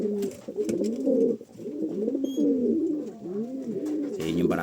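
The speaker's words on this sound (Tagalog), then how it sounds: "para mailipat na natin itong mga ibon na to" Pigeons or doves in an aviary pen coo steadily in overlapping low, rolling calls, close and continuous, with a few faint clicks and rustles around them.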